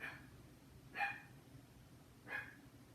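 Three faint, well-spaced dog barks sound from a distance indoors, each a short sharp yap against a quiet background.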